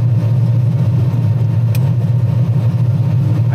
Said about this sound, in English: these small block Fords sound so much better than the LSs.